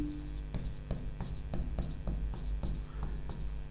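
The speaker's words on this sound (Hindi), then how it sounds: "तो ये भी लिख देते हैं" A pen scratching notes onto paper in a close, brisk run of regular strokes about every third of a second, heard over a steady low background hum.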